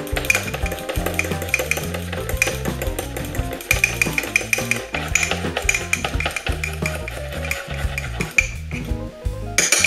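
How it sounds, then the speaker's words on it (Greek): Banana muffin batter stirred briskly in a bowl, with a rapid, regular clatter of the utensil knocking and scraping against the sides, close and loud throughout. "Ανακατεύουμε καλά-καλά."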